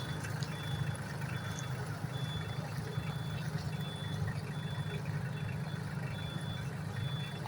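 A Solis 24 hp tractor built by Sonalika reverses in low range, second gear, its steady low engine rumble continuous throughout with a faint repeating beep pattern over it and no talk.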